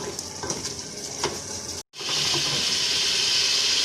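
Chicken salan sizzles and fries steadily in a pan with stirring scrapes, a brief break near the middle before the loud frying resumes.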